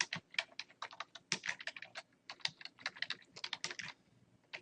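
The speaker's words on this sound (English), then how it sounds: "I'll go ahead and type it out." Rapid, uneven typing on a computer keyboard, a dense run of crisp key clicks with short pauses, close and clear with no voices.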